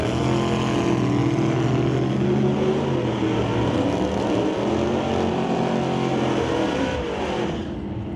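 A 1934 Ford Roadster drag car with a 427 Chevy engine at an NHRA drag strip, rumbling at a loud, steady idle with a deep, sustained engine drone that holds for several seconds.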